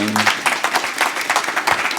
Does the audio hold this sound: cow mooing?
no